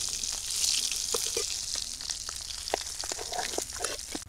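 Hilsa fish pieces fry in hot oil in a home kitchen, giving a steady, close, bright sizzle with scattered pops and crackles and occasional soft stirring clinks.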